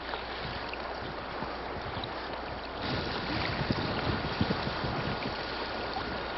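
Wind of about 15 knots from the east blows steadily at Barrow, Alaska, a broad, constant rush buffeting the microphone, with no voices.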